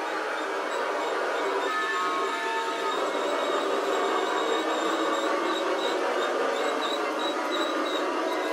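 A new toy train runs with a steady, even whir and rattle, with faint squealing tones early on and no one speaking.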